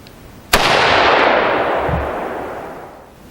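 An AR-15 rifle fired with a muzzle brake on a shooting range delivers one loud, sharp crack followed by a long rolling echo that fades over about three seconds, with no voices.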